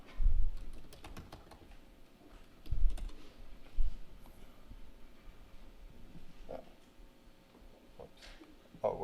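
Keys tapped on a computer keyboard in short quiet bursts of clicks, with a few louder thumps, close up and otherwise alone.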